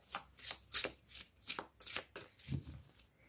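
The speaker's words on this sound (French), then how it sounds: "Je vais laisser sortir les cartes." A deck of cards is shuffled by hand in about nine quick, crisp riffles, close and evenly spaced, with no other sounds.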